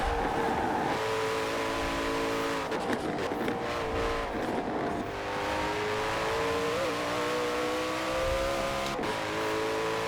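Koenigsegg Jesko engine in Forza Horizon 4 roars through the gears, the revs climbing and dropping between shifts, loud and sustained with no talk.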